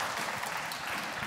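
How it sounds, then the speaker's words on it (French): Brief patch of audience applause for speaker Caroline Hansen at an urban design talk, a soft, dense wash of clapping heard at a distance. "on peut l'applaudir"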